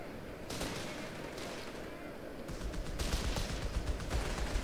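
Enemy machine-gun fire in the video game Company of Heroes 3, faint rapid bursts of shots rattling continuously over a low battlefield rumble.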